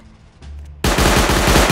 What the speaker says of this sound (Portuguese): Eu tomei tiro, não sei de onde.